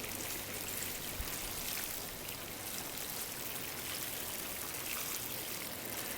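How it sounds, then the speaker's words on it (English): Water streams steadily from a hose or can onto damp soil inside a garden berm in central Portugal, a soft continuous splashing hiss at low level with no talking. "I'm still just going to water it in for now"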